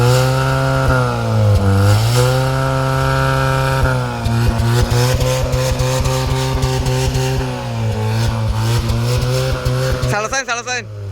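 A modified Mahindra Thar 4x4 idles with a loud, steady exhaust drone, then revs up and down in repeated swells, the engine note rising and falling close by before a final sharp blip.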